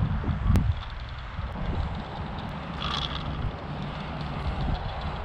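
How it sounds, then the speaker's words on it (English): Steady outdoor wind rumbles and buffets the microphone throughout, with a sharp thump near the start. "It's windy out here."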